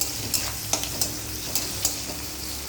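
Onions frying in a pan with ginger garlic paste and potatoes for an Assamese-style small tingora fish mustard curry: a steady oily sizzle, close and fairly loud, broken by regular scraping strokes of a spatula, alone without voices.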